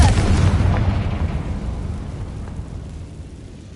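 A Confringo blasting curse explodes in Hogwarts Legacy, a single loud, heavy boom up front whose rumbling blast decays steadily over a few seconds, with no talking.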